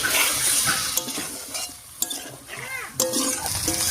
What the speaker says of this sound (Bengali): এবার এর মধ্যে ভেজে রাখা ডিম আর আলুটা দিয়ে দিচ্ছি। একই সঙ্গে দেবো একটুখানি জল